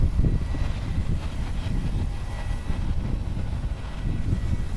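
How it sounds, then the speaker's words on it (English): A Japan Airlines Boeing 787-9 Dreamliner departs Haneda runway 16L in Tokyo, heard as a distant, steady low roar with a rumbling undertone. "Departing on runway 16 left is Japan Airlines Flight 91 going to Seoul, Korea. This is a Boeing 787-9 Dreamliner, 5 years old."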